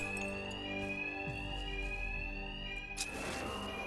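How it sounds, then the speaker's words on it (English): Bank alarm ringing in Batman: Arkham Knight inside Gotham's biggest bank, a loud, continuous electronic tone with steady harmonics droning throughout, briefly jolted by a thud near the end. "these thugs can't hear a thing over the alarms"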